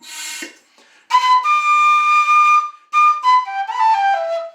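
A whistle plays sustained, bright tones in two long phrases after a short opening burst, loud and close, with the pitch shifting between held notes and no talking over it.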